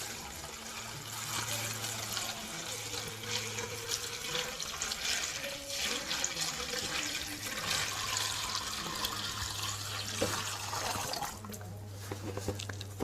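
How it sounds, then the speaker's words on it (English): Lettuce and water poured through a fine strainer and mesh, a steady broadband rush of running water lasting throughout with a low hum beneath, continuous and fairly close. "Now we're going to very carefully pour the lettuce through the strainer"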